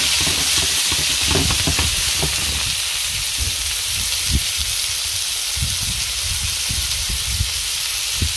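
Artichokes roast in a pan with garlic, seasoned with salt, making a loud, continuous sizzle with scattered pops and crackles up close.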